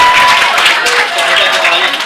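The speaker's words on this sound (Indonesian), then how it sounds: "Udah tepuk tangan langsung semua." Students in a madrasah school hall clap together in a dense, steady burst that lasts about two seconds, loud and close throughout.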